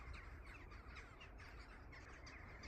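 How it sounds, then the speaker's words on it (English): Several crows cawing overhead outdoors, harsh calls repeating through the short stretch over a steady wash of background noise. "hello crows"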